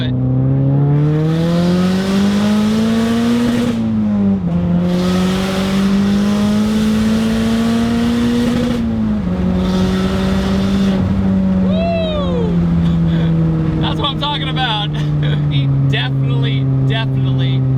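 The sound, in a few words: Mazdaspeed 3 turbo hatchback accelerating hard to 7,500 rpm redline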